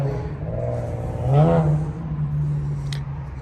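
A 2021 Jeep Grand Cherokee L Limited engine hums steadily nearby in a parking lot, its pitch rising briefly in a short rev before settling back to an even idle, with a faint click near the end.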